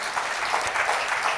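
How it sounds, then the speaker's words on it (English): Audience applause for newlyweds at a comedy show, a dense, steady wash of many hands clapping at close range that holds evenly for the whole moment without voices. "big round of applause for the newlyweds"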